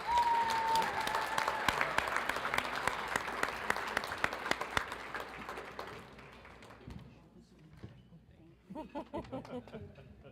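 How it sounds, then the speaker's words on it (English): Audience at a Special Olympics New Mexico Law Enforcement Torch Run event applauding agencies, loud dense clapping with some cheers that thins out into scattered claps near the end. "Let's give all those agencies a big round of applause."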